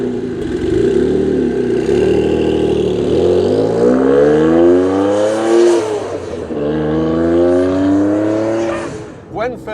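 A Noble M12 3R British sports car drives off, its engine climbing through revs in a few long, loud upward sweeps with gear changes between them, close and steady.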